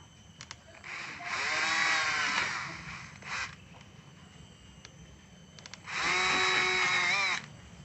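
An electric drill with a 2 mm bit whines in two bursts while drilling a small hole, about two seconds each with a pause between, close and fairly loud against a quiet background.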